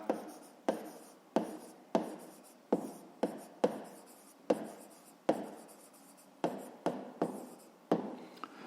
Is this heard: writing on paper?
yes